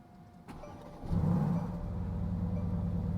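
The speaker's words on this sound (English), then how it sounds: "Listen to the engine." A push-button Mercedes-Benz with a 193 mph top speed starts up. A short click comes first, then the engine catches with a rising roar and settles into a steady, close idle.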